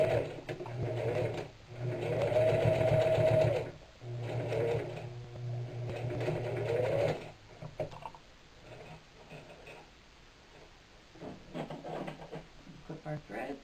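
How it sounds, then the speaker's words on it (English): A sewing machine stitches across a burlap coffee sack, running in two loud bursts of steady whirring with a short pause between them, followed by quieter handling sounds and light rustling. "So we're going to sew and then back stitch and then sew all the way across and then back stitch."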